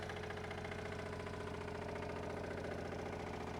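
The diesel engine of a Polaris 455 idles with a steady, even chugging pulse and a slight knocking clatter, close by and continuous throughout.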